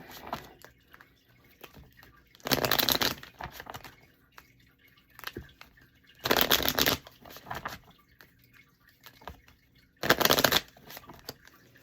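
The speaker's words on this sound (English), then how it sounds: "Okay, one more shuffle." A deck of tarot cards is riffled three times, each shuffle a brief, loud burst of crisp flapping about a second long, separated by quiet stretches of faint handling noise.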